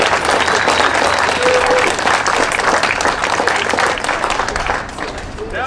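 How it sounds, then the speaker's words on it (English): Audience applause fills the room, a loud continuous wash of many hands clapping that tapers slightly toward the end, with no talk over it. "Give each other a big hand of applause for doing such a great job."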